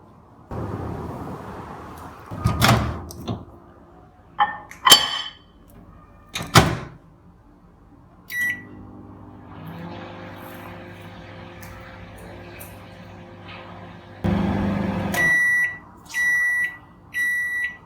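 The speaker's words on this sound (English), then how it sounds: "I am going to put it into the microwave for exactly 1 minute" A microwave hums steadily for one minute cooking a chocolate mug cake after door clunks and button beeps, then a door opens and several loud end-of-cycle beeps sound.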